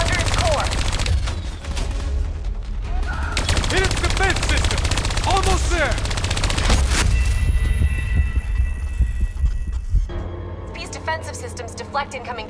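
Rapid automatic weapon fire and explosions in the video game Call of Duty: Black Ops 3, loud and dense bursts layered over a low rumble, with a game voice speaking over the gunfire.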